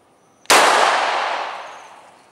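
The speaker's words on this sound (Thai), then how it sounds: "สุดท้ายยิงโดยไม่ใช้ศูนย์นะครับกะเอาฮะชี้ปากกระบอกปืนให้ตรงเป้านะครับ" One loud pistol shot fired from the hip without aiming through the sights, a sharp close crack with a long ringing echo that fades over about two seconds.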